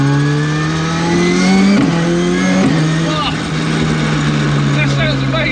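An 800bhp Honda S2000 engine in a Mk2 Ford Escort revving hard, its tone climbing and then dropping sharply at two quick sequential gear shifts before pulling on steadily, loud and close.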